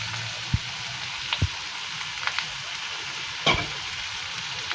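Ladyfinger curry sautéing in a pan with ground coriander, cumin, chilli, Kashmiri chilli, turmeric, sugar and salt, making a soft, steady sizzle broken by a few low thumps of a spoon.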